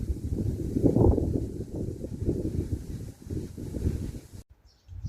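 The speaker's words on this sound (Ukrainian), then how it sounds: "Вибачайте за вітер, звісно." Steady low wind buffets the microphone in gusts, a dull rumbling roar that continues throughout before briefly dropping away near the end.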